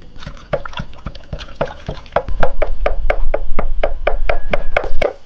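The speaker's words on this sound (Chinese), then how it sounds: "猪肉剁碎。" A cleaver chops pork on a board in quick repeated strikes, sharp wet thuds that start sparse and grow into a fast steady rhythm, loud and close with no talking.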